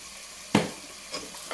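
Ground onion paste for a thick fish curry gravy hits a hot pan with one sharp, loud sizzle, followed by two fainter stirring sizzles and no talking.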